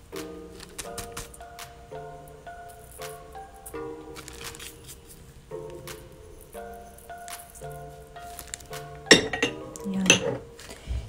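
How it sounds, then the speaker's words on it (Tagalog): Homemade sweet and spicy skinless longganisa ingredients, with salt added, are mixed in a bowl, making soft squishing and repeated clinks of utensil against the bowl, with a louder clatter of dishes near the end. "Halo-halo lang hanggang maghalo lahat ang ingredient."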